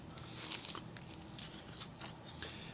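A birria crunchwrap is bitten and chewed close up, with quiet, crisp crunches repeating over a few seconds.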